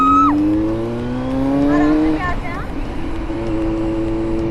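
A Kawasaki superbike rides out from a Dehradun showroom, its engine revving loudly up and down in pitch with rising and falling sweeps, close and strong under steady wind and road noise.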